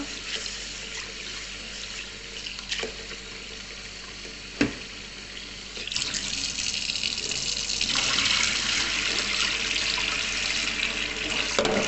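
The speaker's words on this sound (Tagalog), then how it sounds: "hugasan natin yung munggo para malinis" Mung beans are rinsed under a running kitchen tap, with a steady splashing water flow that swells louder partway through, plus a brief knock; no one speaks.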